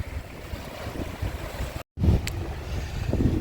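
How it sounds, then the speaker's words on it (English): Steady wind at a beach buffets the microphone with a low, rumbling roar, broken by a brief total dropout before the gusting resumes just as strongly. "Right now I'm here at the local beach. It's very windy today."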